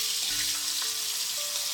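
Potatoes half-frying in hot oil for pork spareribs caldereta give a steady, close bubbling sizzle that runs on without a break, with faint clinks of utensils now and then.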